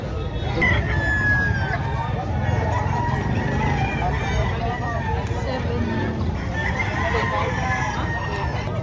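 A rooster crows loudly amid the clamor of a chicken market in Batangas, with other fowl clucking around it and people talking in the background.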